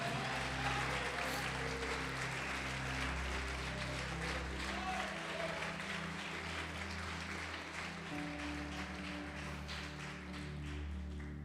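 Church congregation applauding during a Portuguese-language evangelical service, a steady wash of clapping over sustained organ or keyboard tones and a low hum, continuing at an even level for the whole stretch.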